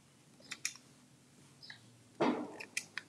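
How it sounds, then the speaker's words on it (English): A few small, sharp snips of scissors trimming thread tails after backstitching on a sewn zippered bag, quiet and isolated with pauses between cuts. "And I'm going to cut my little tails off."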